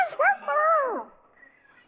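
A dog gives a short yelping whimper followed by a drawn-out whining bark, close and loud, then fades to quiet rustling.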